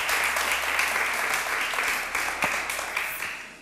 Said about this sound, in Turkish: Alkışı duysun Hüseyin Bey